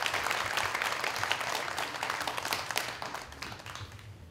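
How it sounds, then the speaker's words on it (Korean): An audience at a Korean public forum event applauds with sustained clapping, moderately loud and steady, tapering slightly toward the end. "다시 한번 큰 박수 부탁드리겠습니다."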